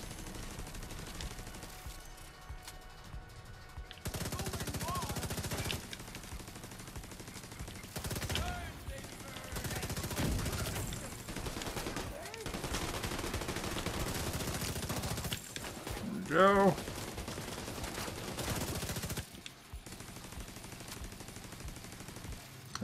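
Deployed turret in The Division 2 on Roosevelt Island firing repeated bursts of automatic gunfire, loud and dense in stretches with brief quieter gaps between volleys.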